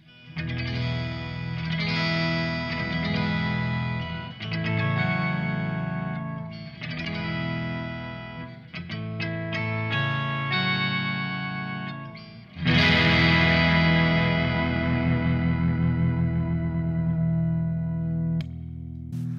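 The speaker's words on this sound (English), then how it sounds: "Look at that organ sound." A sustained organ-like keyboard tone run through swirling chorus and distortion effects, playing chords that swell louder and brighter near the end.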